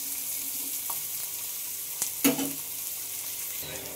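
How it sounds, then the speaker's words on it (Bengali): Sliced onions frying in a pan give a soft, steady sizzle, broken by a few scrapes and one louder clatter as they are stirred; no one speaks. "তো পেঁয়াজগুলোকে এখন একটু ভেজে নেব।"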